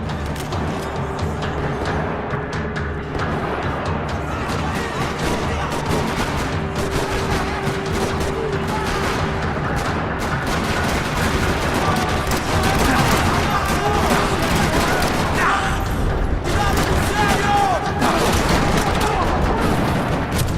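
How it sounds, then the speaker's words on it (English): Dense, relentless gunfire fills a parking lot in the Max Payne 3 video game, rapid overlapping shots and bursts cracking nonstop and loud for the whole stretch, with faint voices underneath. "Another parking lot rattling with gunfire."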